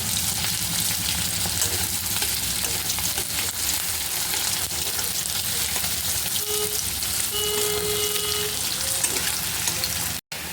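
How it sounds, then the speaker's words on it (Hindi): Onions frying over high flame for a paneer curry give a continuous loud sizzle in the pan, with a few faint tonal beeps late on and a short break at the very end. "पियाज को हाई फ्लेम रे भाजिबे।"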